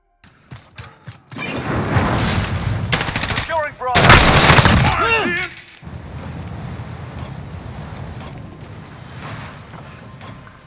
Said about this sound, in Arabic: ونترككم الآن مع بعض اللقطات التي تم تسجيلها باستخدام سلاح M4A1